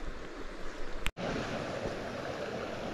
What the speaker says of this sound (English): You can hear the water down in here.